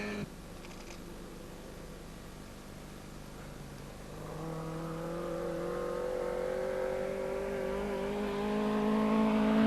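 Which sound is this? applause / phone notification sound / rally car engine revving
rally car engine revving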